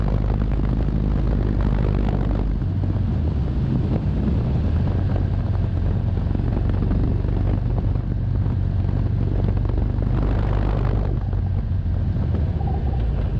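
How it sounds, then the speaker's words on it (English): A 2023 Indian Sport Chief motorcycle in sport mode, carving through winding twisty roads: a steady, loud engine rumble under heavy wind buffeting on the microphone, with the engine note rising twice as the rider accelerates out of the bends. "we're going to get into some twisties here with this bike set in the sport mode now"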